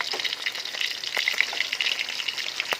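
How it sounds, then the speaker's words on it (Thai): Small pieces of beef frying in hot oil in a pan, a loud, steady close-up sizzle with crackling pops, no voices. "ทอดที่ละหน่อยๆสุกแล้วจ้า"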